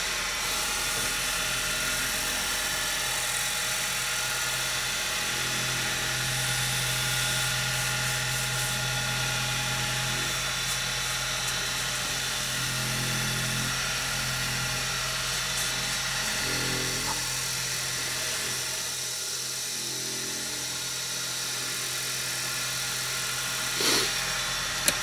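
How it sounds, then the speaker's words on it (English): An antler pen is buffed on a spinning buffing wheel, giving a steady motor whine and broadband hiss that runs unbroken throughout. There is a faint tonal hum and occasional slight changes as the piece is pressed against the wheel. "I'm going to buff it out now."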